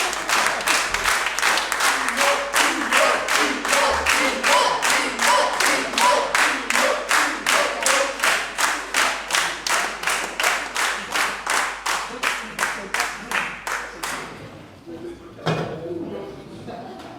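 Audience applause at a concert in rhythmic clapping in a steady, even beat continues for a long stretch, then stops, followed by a few muffled sounds.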